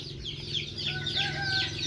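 Chickens cluck steadily alongside newly hatched chicks peeping in a farmyard, a busy layered chatter of birds with no talking.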